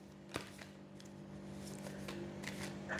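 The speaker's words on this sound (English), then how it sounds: "One more shuffle." A deck of cards is riffled and shuffled close by, with a sharp snap near the start followed by a steady soft rustle.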